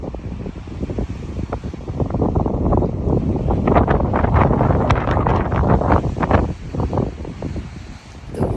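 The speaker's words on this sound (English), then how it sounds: "It's freezing and extremely windy." Strong, gusty wind buffets the microphone in a mountaintop parking lot at Clingmans Dome in the Great Smoky Mountains, a loud, continuous roaring rush that swells and eases without letup.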